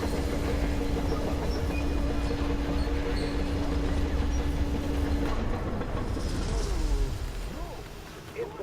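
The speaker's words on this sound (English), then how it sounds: "Hey, there is the train." Train rumbling in Metro Exodus, a steady loud rail drone with a sustained engine tone for several seconds that fades near the end, with game ambience layered over it.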